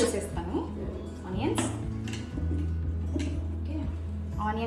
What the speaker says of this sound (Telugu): ఇప్పుడు నేను ఈ చిన్న మిక్సర్లో ఫస్ట్ ఆనియన్స్ వేసేస్తాను.